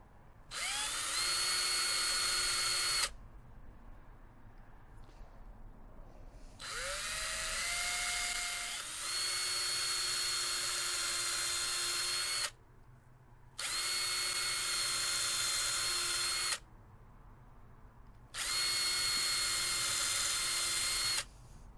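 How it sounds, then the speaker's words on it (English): Power drill boring a pilot hole in light wood for a bird box, several steady high whining runs of a few seconds each, broken by short pauses and brief quiet handling noises. "And it's a pilot drill you got on there."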